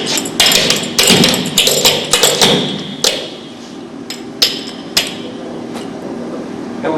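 Bucked-up double step in buck dancing, feet striking a hard floor in quick rhythmic taps and thuds, dense and loud at first, then thinning to a few sharp isolated hits with quieter gaps.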